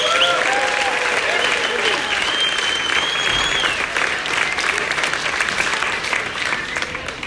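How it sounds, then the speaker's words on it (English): A premiere audience in Summit County, Colorado applauds the cast and crew of a ski film, sustained dense clapping and crowd noise filling the room, with faint voices and a cheer or two rising over it. "can we have a quick round of applause for the cast and crew of Sisters of Skimo?"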